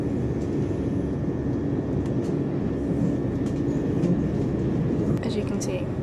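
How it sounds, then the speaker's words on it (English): Passenger train at Clapham Junction: a continuous loud interior rumble and rattle of a moving carriage, steady throughout with faint clicks and squeaks, and a voice talking over it. "We're on the train at Clapham Junction."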